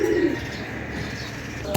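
A pair of fancy pigeons gives one short, close coo at the very start, followed by a faint low hum and quiet background.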